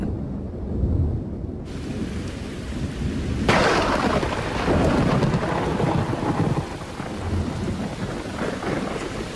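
Steady heavy rain pours down over the Galapagos Islands, and a loud crack of thunder breaks in partway through, followed by rumbling over the continuing downpour.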